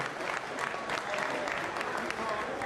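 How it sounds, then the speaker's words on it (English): A crowd at a press conference claps in a dense, steady patter of applause lasting a few seconds, with voices mixed in underneath. "Round of applause for B."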